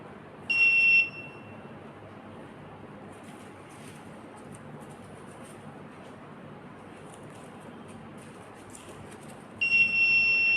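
Full-bin alarm on an Arduino smart garbage container with an ultrasonic sensor: a steady high electronic beep sounds briefly near the start, gives way to a long stretch of low background hiss, then returns at the end.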